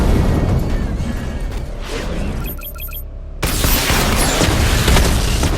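Tank barrage explosions in the Batman Arkham Knight video game: a loud, sustained rumbling boom with a brief pause of beeping interface tones partway through, then another heavy blast that continues to the end.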